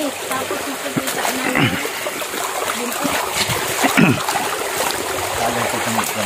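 Water splashes and trickles steadily in a loud, continuous flow, with occasional sharper splashes, up close and filling the scene.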